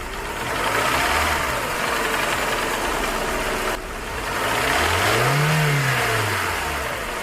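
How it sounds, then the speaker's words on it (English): A running car engine with a piston knock revs up and down with a steady, hollow metallic knocking rattle underneath, close and loud throughout. "A hollow metallic knocking or impact sound, known as piston noise"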